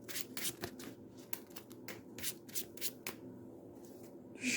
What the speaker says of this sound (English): I will shuffle his deck